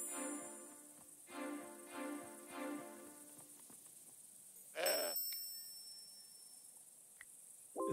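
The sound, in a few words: goat bleating, from video game Broken Sword 5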